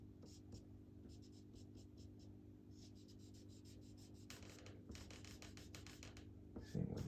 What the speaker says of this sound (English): Erase some lines.